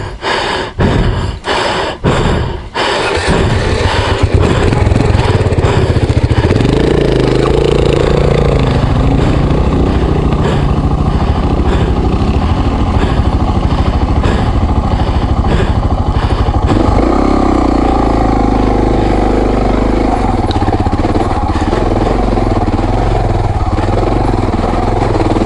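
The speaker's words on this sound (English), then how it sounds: "I made a quick comment to Charles that the track was too hard for these big bikes" Big motorcycles labour along a rough track in Watagan State Forest, their engines droning loud and steady close by for most of the stretch after a few sharp bursts at the start.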